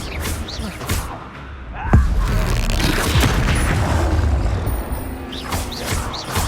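A Confringo explosion spell in Hogwarts Legacy gives a heavy booming blast with crashing debris and thuds amid combat noise, while a voice calls out spell names.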